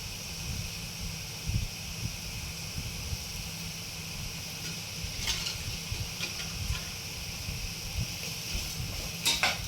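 Green peas sauté in a pan for fried rice, giving a steady soft sizzle with occasional light stirring scrapes and clicks, fairly quiet and close, without speech.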